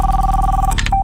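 Touch-tone telephone keypad dialing heard up close, a long steady dual tone followed by a few short beeps, with no voices.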